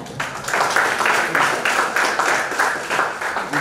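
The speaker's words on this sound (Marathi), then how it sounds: "पुन्हा एकदा जोरदार टाळ्या." Loud applause rises from an audience at a Marathi literary gathering, a dense and steady wash of many hands clapping that continues throughout without a break.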